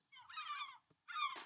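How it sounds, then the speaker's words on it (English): Seagulls call in two bursts of harsh, nasal cries, the first longer and the second after a short pause, heard fairly faint against silence. "Okay, seagulls, we also want them to be louder"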